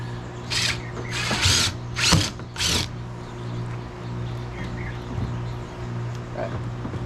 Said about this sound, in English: so it doesn't move when I drill the second hole